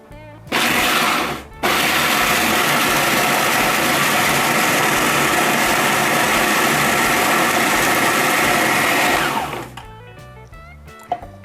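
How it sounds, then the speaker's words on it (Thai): An electric blender grinds roasted peanuts into a coarse powder for a Thai curry-noodle dish. Its motor runs loud and steady for about nine seconds, with a brief stop near the start, and then winds down. "เดี๋ยวเราจะนำถั่วลิสงคั่วนะคะ ลงไปปั่นเลยค่ะ"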